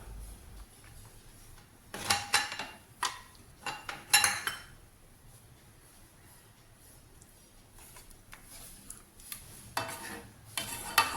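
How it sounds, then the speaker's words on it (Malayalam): A spoon stirs caramelized banana into simmering coconut milk sauce for a Thai dessert. It makes intermittent clinks and scrapes against the pan, with a few louder bursts between quieter stretches. "ഈ സമയത്ത് നമുക്ക് ഇതിലേക്ക് നമ്മൾ കാരമലൈസ് ചെയ്ത് വെച്ചിട്ടുള്ള പഴം ചേർത്ത് കൊടുക്കാം"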